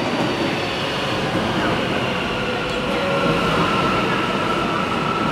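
An Istanbul Metro train running, heard from on board as a loud, steady rumble and roar with a faint whine of wheels on rail, continuous and unbroken, no talking.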